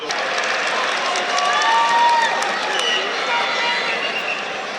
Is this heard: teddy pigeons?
no